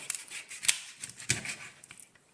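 Sharp crunching cuts and snips as a knife or shears go through the cartilage of a whole raw chicken being butchered, a few distinct close chops with small scrapes between them, no talk.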